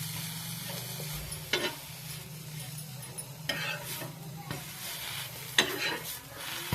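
A plain bread sandwich toasting in a pan gives a soft, steady low sizzle, broken by a few sharp spatula scrapes and taps as it is turned, fairly quiet and close.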